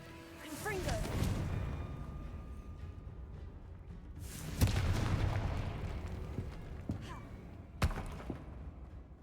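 Blasting-spell explosions in a Harry Potter video game burst out as two sharp, loud booms a few seconds apart with a fainter crack after, over a busy game soundscape with a voice calling out between them.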